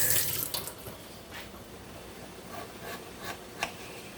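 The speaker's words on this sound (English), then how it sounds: "Let me rinse this off because I had that on with the onion." Water runs from a kitchen tap over a knife or board being rinsed after cutting onion, a steady close splashing hiss with a few brief rubbing swishes and clinks, no talk.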